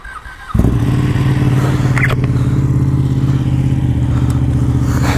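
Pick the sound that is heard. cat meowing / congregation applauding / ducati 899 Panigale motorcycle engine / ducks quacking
ducati 899 Panigale motorcycle engine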